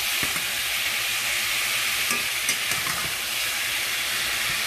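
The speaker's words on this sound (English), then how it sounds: "Let me get on the good foot, y'all, with browning this meat." Plain ground chuck browns for taco salad in a pan, giving a dense, bright, steady sizzle with occasional spatula taps and stirring knocks, close and without talk.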